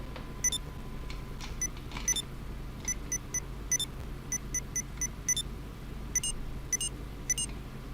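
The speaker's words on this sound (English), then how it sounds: "In GTA Online, there's a random glitch that distorts your phone's sound effects." Glitched, distorted phone sound effects in GTA Online: thin bright beeping chirps repeating irregularly in short bursts over a low hum, quiet and without speech.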